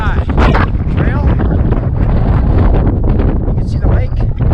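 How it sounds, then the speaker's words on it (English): Strong gusting wind buffeting the microphone on a mountain trail in Rocky Mountain National Park, loud and continuous roaring with a voice faintly mixed in. "Pretty windy out here."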